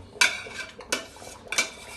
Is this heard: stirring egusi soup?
yes